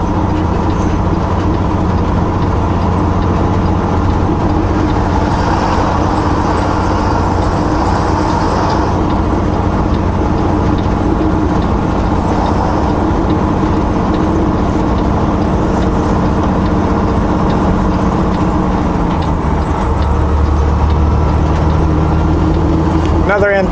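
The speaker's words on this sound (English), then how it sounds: "here comes an empty chip truck. We'll let him blow past us" An empty chip truck blows past on a snowy mountain road by Columbia Hill, a brief swelling rush over the constant drone of a nearby engine and road noise, with someone talking over it.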